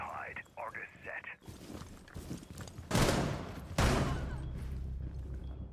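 Shotgun blasts in the tactical shooter Rainbow Six Siege, two heavy booming shots about a second apart that ring out into noisy reverberation, preceded by quieter in-game sounds and voice chatter.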